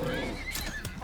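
Horse neighing in a video game set on an alien planet while a bear attacks it, a tremulous whinny with a few hoof clops, heard under a talking voice.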